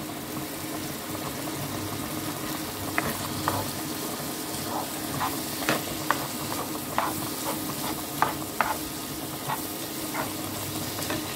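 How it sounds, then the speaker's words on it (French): A pot of beef shank simmers gently, a soft steady bubbling with small pops and occasional light clinks throughout. "ma casserole de mon jarret qui bouillit calmement"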